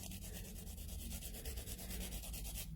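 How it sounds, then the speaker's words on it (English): A medium-grit nail buffer lightly rubs back and forth across a fingernail's free edge, a steady close, soft scratchy sanding with rapid repeated strokes and no talking. "I'm going to take the medium side, and I'm just going to lightly buff the free edge"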